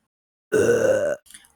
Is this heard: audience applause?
no